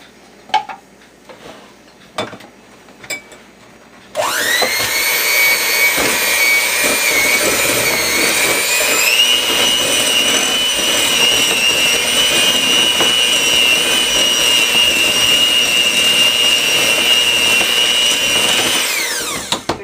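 An electric hand mixer creams a stick of butter with a cup of brown sugar for snickerdoodle bars, starting after a few light clicks. It then runs loud and steady with a high whine for about fifteen seconds before stopping abruptly.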